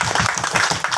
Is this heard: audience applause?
yes